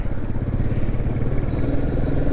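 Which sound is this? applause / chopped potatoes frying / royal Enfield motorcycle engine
royal Enfield motorcycle engine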